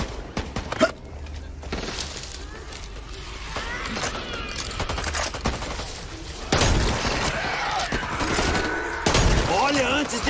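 Back 4 Blood video game gunfire crackles in bursts with some louder shots, mixed with mechanical clicks and shouting voices in a hectic firefight.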